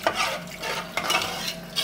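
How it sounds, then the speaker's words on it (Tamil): A spoon stirs a rice and water mixture for egg dum biryani in a pot, giving close, continuous scraping and sloshing strokes with no talking. "இப்போது நல்லா மிக்ஸ் பண்ணிவிடுங்க"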